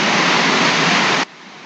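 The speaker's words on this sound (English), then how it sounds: "hopefully the rain coming down doesn't affect the sound of this video" Heavy rain drums steadily on a tin roof in Kentucky as a dense, loud, even wash, then abruptly drops to a quieter hiss.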